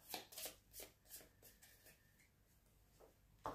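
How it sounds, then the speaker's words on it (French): A deck of game cards being reshuffled on a tabletop during a solo board game session, a series of soft riffling and flicking bursts at a steady rhythm, close and quiet. "Alors, je remélange les cartes."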